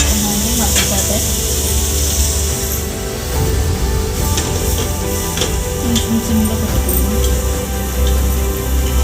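Pieces of egg cake fry in a masala curry under a lid, giving a steady loud sizzle with faint ticking and bubbling throughout, heard alone and close.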